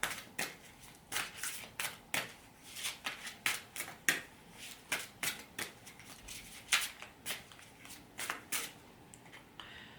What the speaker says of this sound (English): Let's pull one more card, though, from the deck that goes with inner child